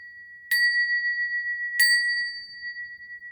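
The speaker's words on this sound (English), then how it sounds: "Let's take a breath. I'm going to ring a bell." A small bell rung twice about a second apart, each strike a clear bright ding with a long ringing sustain, close and alone in an otherwise quiet room.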